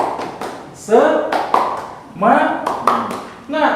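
A classroom of students clapping a rhythmic spirit clap, short bursts of hand claps in a patterned beat, interleaved with a teacher's voice calling out between the bursts.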